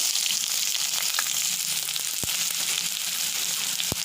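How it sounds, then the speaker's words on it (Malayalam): Chopped onion sizzles steadily in hot oil with mustard seeds and curry leaves for a jackfruit-seed stir-fry, a dense, even hiss broken by a couple of sharp taps. "ഇനി ഇതിലേക്ക് ഒരു സവാള ഉള്ളി അരിഞ്ഞതും കൂടെ ഇട്ട് കൊടുക്കാം"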